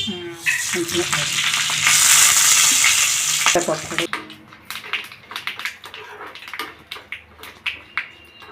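Loud sizzling and crackling of tempering spices and curry leaves hitting hot oil for about four seconds, then quieter scattered pops and taps.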